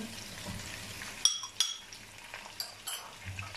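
Tomatoes fry in a pan for mutton pulao, a quiet sizzle broken by a few sharp clinks and scrapes of a spoon stirring against the metal.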